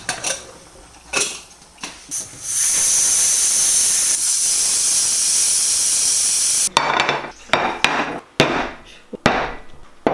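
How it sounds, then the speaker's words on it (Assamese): Onions fry in a pan until golden brown, giving off a loud, steady sizzling hiss that swells for several seconds. Knocks and scrapes of a utensil against the pan come before and after it, with no talk. "জাষ্ট আ টাইনি বিট ফ্ৰাই কৰি লোৱাৰ পিছত অলপ গোল্ডেন ব্ৰাউন হ'ব দিব পাৰি মানে পিঁয়াজখিনি"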